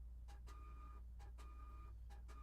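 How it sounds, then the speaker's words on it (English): A label printer runs in quick bursts while spooling sheets of card labels, each pass a short buzzing whir with a harmonic whine, repeating three times at close range over a steady low hum, with no talking. "What is up with this printer? Come on."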